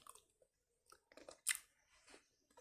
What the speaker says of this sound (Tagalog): kain ng saging para manguya-nguya pa natin